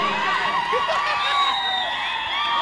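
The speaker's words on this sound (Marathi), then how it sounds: "टाळ्या काही थांबत नाही" Dense, steady crowd roar with cheering and whoops at a kabaddi match between DN Resort Satirje and Shree Samartha Bahirole, sustained and loud throughout with no clear break.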